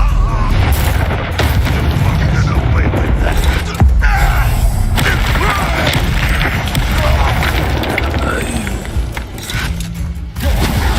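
Incendio fire spell cast in the video game Hogwarts Legacy, loud booming bursts and whooshing blasts layered with mechanical game effects, continuous and dense across the clip.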